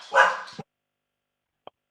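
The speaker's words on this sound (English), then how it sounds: "I hear your dogs" A dog barks once loudly nearby, followed by a short trailing yelp and then a single faint distant yip after a pause of silence.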